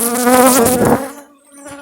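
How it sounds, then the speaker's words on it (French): Dense honeybee buzzing hums loudly up close as bees are moved into a hive, a swarm-like drone that thins out partway through, leaving a quieter, steady hum. "Toutes les abeilles résiduelles qui sont dans la ruchette, il faut les mettre dans la ruche."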